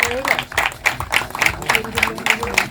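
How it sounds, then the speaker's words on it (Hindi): Applause at a film press conference for The Kashmir Files, a dense run of clapping from the gathered audience lasting a few seconds, with an announcer's voice carrying over it. "अतुल जी के लिए जोरदार तालियां हो जाए"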